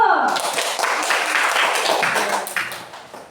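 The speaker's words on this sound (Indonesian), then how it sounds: "Oke, tepuk tangan dulu." A group of people claps hands in a classroom, a burst of scattered applause that starts loud and dense, then thins and fades toward the end.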